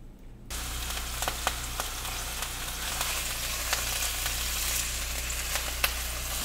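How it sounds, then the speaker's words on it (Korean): Meatballs simmer in tomato sauce in a pan, giving a steady close bubbling sizzle with faint crackles and pops throughout, no talking. "저는 지금 토마토 소스에 미트볼 이렇게 끓이고 있고요"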